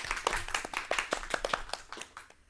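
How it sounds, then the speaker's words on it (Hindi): Brief clapping from a small group for quiz answers about sports, a couple of seconds of close, sharp, uneven hand claps that thin out toward the end. "तो इन सब के लिए एक बार जोरदार तालियां।"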